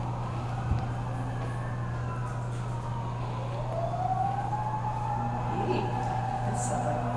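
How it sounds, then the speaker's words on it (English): A fire truck siren wails steadily in the distance outside during a painting workshop, its long rising and falling tone sustained throughout over a constant low hum. "Fire truck."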